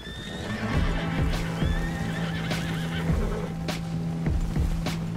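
Several horses whinny and neigh in a video game as a herd is gathered near a fort, with soft hoof clip-clop, a steady low drone and other animal calls mixed in, all fairly close and with no talking.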